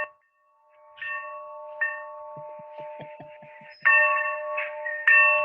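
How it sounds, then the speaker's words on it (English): A handbell is rung to open a meeting: a few bright, ringing strikes with sustained tones that decay slowly, spaced over several seconds, heard alone with no talking. "And I will ring the bell to start the meeting."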